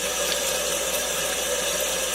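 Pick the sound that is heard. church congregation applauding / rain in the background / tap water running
tap water running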